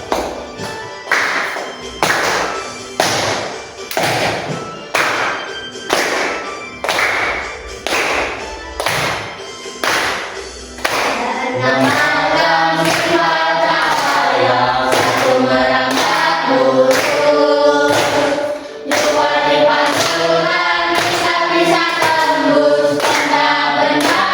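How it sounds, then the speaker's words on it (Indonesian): Hand claps ring out in a steady, evenly spaced beat of sharp, close slaps for several seconds, then give way to a denser, continuous rhythmic passage with faster tapping layered together. "Pakai tepuk tangan."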